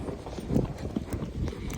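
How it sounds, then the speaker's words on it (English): A horse named Teddy trots out hacking in the countryside, its hooves clip-clopping in a quick, even rhythm, fairly close but muffled under steady wind and movement noise. "I'm just gonna keep trotting till we get past these cows, Kyle, because they might just join us."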